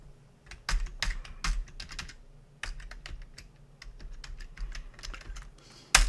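Quick bursts of keystrokes on a computer keyboard as a password is entered, close and clear, with short pauses between clusters and a final louder tap.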